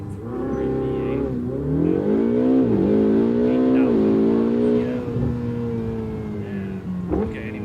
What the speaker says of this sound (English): Hear that Ferrari V8?